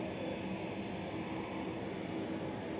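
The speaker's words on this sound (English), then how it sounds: "This will be the plane that will take us on the 3-hour journey to Melbourne today." Qantas Airbus A330-200 airliner with GE engines, a steady, loud, broadband engine roar holding constant throughout with a faint high whine on top.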